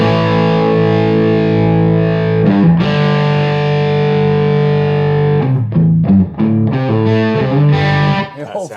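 Distorted electric guitar plays a fast lick, a sustained chord ringing before quick choppy phrases with short breaks, loud and close.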